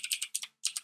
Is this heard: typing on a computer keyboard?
yes